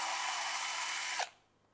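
A HUJIA 13V cordless drill spins at a steady high-pitched whine for over a second, then the motor cuts off and the sound dies away.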